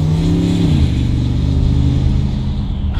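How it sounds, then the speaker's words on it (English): A Porsche Cayenne Turbo S engine with its intercooler disconnected revs up and then settles into a loud, rumbling, uneven drone, close and with no one talking. "Because we have a huge disconnect in our turbo system with the intercooler not being there, it makes this crazy sound."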